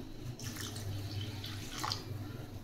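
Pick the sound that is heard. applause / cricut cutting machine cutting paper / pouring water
pouring water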